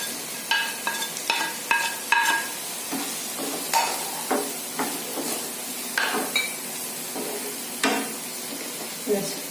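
Chopped carrot, capsicum and green peas stirred and sizzling in a pan for a rice flakes breakfast, a steady hiss of frying under repeated close scrapes and knocks of a spoon against the pan.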